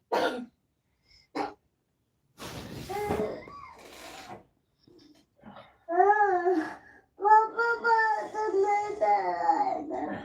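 A child coughs and clears their throat in short bursts, then talks and babbles in a high voice, with quiet gaps between.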